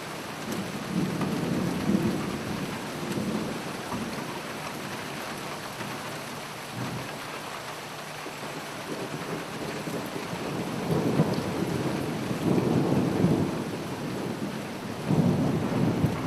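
Heavy rain pours steadily over farm fields at a storm campsite while deep thunder rumbles swell and fade several times throughout.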